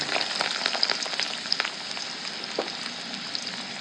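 Fish roe and chopped onion fry in a hot pan with a dense, steady sizzle, close and fairly loud, with a few sharper crackles and light stirring scrapes.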